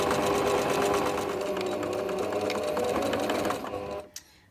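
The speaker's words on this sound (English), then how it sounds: "I'm just going to sew all the way around like that" A sewing machine runs a straight stitch around cloth sanitary pads in a fast, even mechanical rattle, close and continuous, then slows and stops with a final click near the end.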